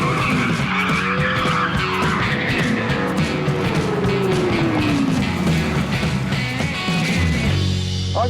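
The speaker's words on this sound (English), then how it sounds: "Doing a skid!" Supercars spin donuts on a road trip from Las Vegas through the desert toward Calexico, California, with loud, close tire squeals and skidding over revving engines, and pitch sweeps as the cars slide and circle.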